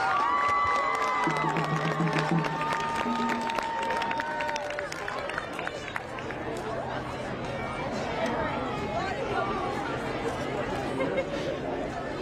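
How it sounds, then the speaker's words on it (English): Crowd in the stands at a high school football game cheering for the cheer squad seniors, whistles and shouts at first, then clapping and chatter from many people. "Let's hear it for all our cheer squad seniors."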